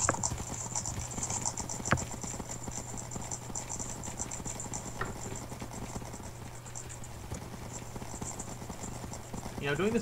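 Minecraft horse hooves clip-clop steadily and continuously over a constant electronic hum and a high whine, with faint voices in the background.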